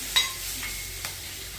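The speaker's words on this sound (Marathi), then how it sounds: "कांदा आपला छान परतून झालेला आहे।" Chopped onion, with garlic, being sautéed in a pan for a methi (fenugreek leaf) dish; a soft, steady sizzle with a few brief scraping stirs, close and fairly quiet, no talking.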